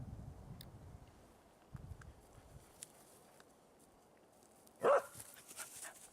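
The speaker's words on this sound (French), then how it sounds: "Haroun n'a pas commencé à aboyer n'importe quand" A dog named Haroun gives a single sharp, close bark near the end after a stretch of near quiet, with faint rustling and soft footfall-like taps around it.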